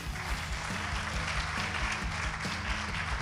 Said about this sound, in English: I want to ask the audience to help me thank the teachers with a round of applause